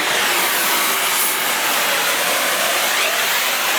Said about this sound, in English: we're doing it the nice, easy, fun way, and just cutting them right off with some nice heat